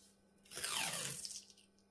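Adhesive tape tears off a roll once while a diamond painting canvas is prepared, a short close ripping sound over quiet room hum.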